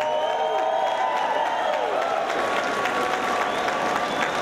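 A crowd at an MMA fight applauds and cheers steadily after the bout, a dense wash of clapping that holds throughout, with the announcer's amplified voice faintly underneath.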